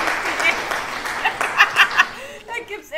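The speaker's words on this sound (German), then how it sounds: "Da gibt's erstmal einen Applaus von der Tiara für unser Hund." Short burst of applause in a video game, a quick patter of claps mixed with light chuckling, close and brief.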